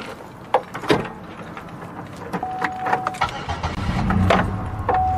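A car is started amid clicks, key and door handling, and a chiming alert tone, with a low engine rumble building toward the end.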